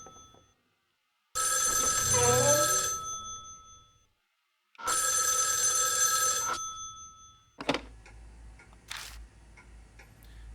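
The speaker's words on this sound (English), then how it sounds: "Are we supposed to answer the phone?" Telephone bell ringing in the Spirit Hunter: NG video game, two long loud electronic ring bursts separated by a silent pause, followed by a brief clatter and softer tones.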